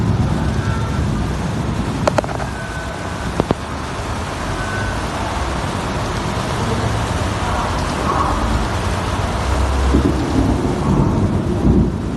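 Heavy downpour over Chennai with thunder, a dense continuous roar of rain punctuated by rumbling thunder and a couple of sharp cracks, loud and close throughout.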